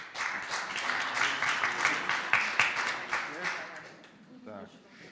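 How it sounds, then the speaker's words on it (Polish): Applause breaks out at an anniversary celebration of a choir in Wrocław, many hands clapping loudly then tapering off, with a voice speaking over the end. "Ale brawa, oczywiście."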